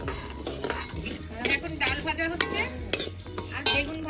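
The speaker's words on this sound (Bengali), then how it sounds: "আর বেগুন ভাজা হচ্ছে" Eggplant fries on a stove at an outdoor picnic, a low sizzle under repeated metal clinks and scrapes from a utensil stirring in the pan, close and fairly quiet, with no talk.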